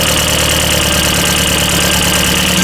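A barn-find Volkswagen GTI engine runs rough just after starting, a loud, steady, clattering diesel-like idle with a knocking pulse that fills the whole stretch without pause.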